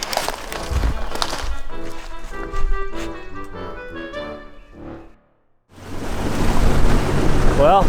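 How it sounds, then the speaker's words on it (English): A small boat runs up a creek during a spring turkey hunt, with wind and rushing water noise. A voice is heard early, then a brief silent gap before a loud, steady roar resumes. "Decided to take the boat out this afternoon."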